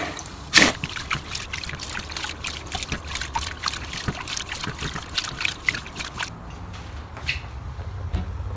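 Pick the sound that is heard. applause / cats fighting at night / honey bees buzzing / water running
water running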